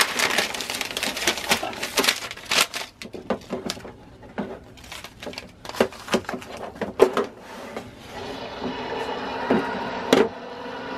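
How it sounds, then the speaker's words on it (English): Fabric layered with paper is rolled through an Accuquilt die cutter for a spider web quilt, giving a long run of dense clicks, ratcheting taps and crunching knocks, close and fairly loud, with no talking. "And then run this through the cutter."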